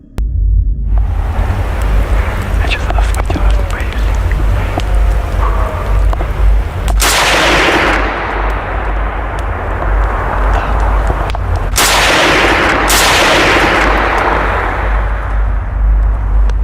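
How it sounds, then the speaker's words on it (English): Three warning gunshots ring out in deep woods at night, each a loud, sharp blast with a long, rolling decay. They sit over a steady, low, noisy rumble. "he fires off 3 warning shots"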